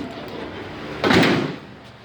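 The door of a 1954 Chevrolet Bel Air hardtop swings shut with a single solid thunk, close and fairly loud over a low background hum, alone without talk.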